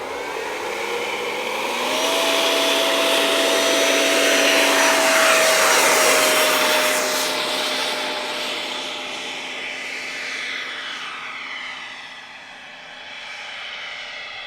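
A T-33 model jet ducted fan spools up for takeoff, a loud rising whine that climbs in pitch, holds at a steady high roar, then fades slightly as it moves off, with no talking.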